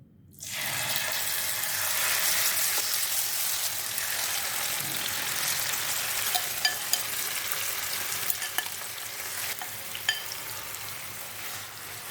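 Chicken masala hits hot oil on a tawa with a steady, loud sizzle and frying hiss across the whole clip, broken by scrapes and taps as it is stirred and spread; no one speaks.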